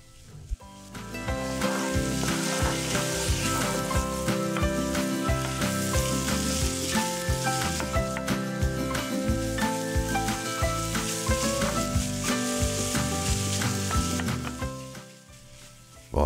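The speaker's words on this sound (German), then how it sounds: "Und jetzt wird das so lange richtig gebraten, gebrutzelt und geröstet, ja, bis es eine richtig schöne, braune, knusprige Kruste bekommt." Gyros meat frying and sizzling in a Dutch oven lid, a steady dense crackle that holds loud and close for most of the stretch before easing off near the end.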